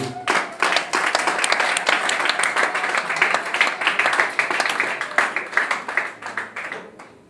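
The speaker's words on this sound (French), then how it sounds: "Est-ce que nous pouvons encore applaudir pour notre Dieu?" Loud, continuous applause from a church congregation during an Ascension service, many hands clapping together in a dense wash that holds steady, then thins slightly toward the end.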